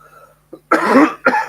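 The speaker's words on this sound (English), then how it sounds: "Sorry about the coughing." A person coughs nearby, a short rough burst followed by a second cough, loud and close.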